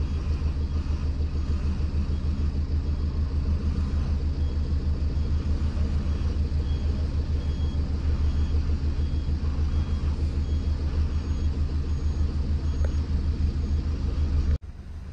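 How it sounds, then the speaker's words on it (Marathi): An army vehicle reverses slowly on a narrow mountain road in Spiti, its engine giving a steady low rumble and drone that stays close and unbroken, then cuts off abruptly near the end. "घेत आहेत मागे गाडी आता."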